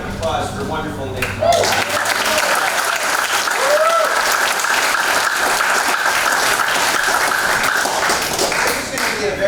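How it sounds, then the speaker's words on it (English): A church audience at a concert bursts into loud, sustained applause, a thick wash of clapping that holds strong throughout with a few voices underneath. "Give a big round of applause for wonderful Nick."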